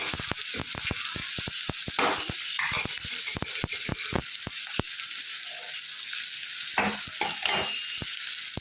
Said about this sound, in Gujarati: સરસ બધું સોતે કરી દઈએ. બધું થોડુંક નરમ થાય ત્યાં સુધી આપણે એને શેકાવા દઈશું.